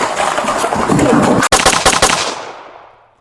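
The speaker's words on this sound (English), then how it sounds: "The second officer drew his weapon and fired 4 shots in 1 to 2 seconds." Gunfire from a police officer's handgun, with several sharp, loud reports in rapid succession close by. A brief gap follows the first shot, and the echo rings out and fades over the last second.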